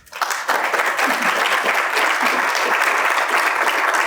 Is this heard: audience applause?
yes